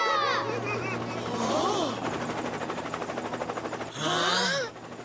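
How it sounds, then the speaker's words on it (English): A helicopter's rotor thumps in a steady rapid beat through the middle of a Beyblade Metal Fusion cartoon scene, with loud voices and effects before and after. "That helicopter!"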